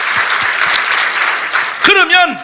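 Applause at a church sermon, a dense patter of clapping from a congregation, loud and continuous, with a voice cutting in near the end.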